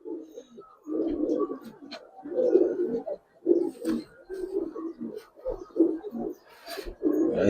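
Giribaz pigeons cooing close by in repeated throaty, rumbling bursts with short pauses between them, continuing throughout with no voices.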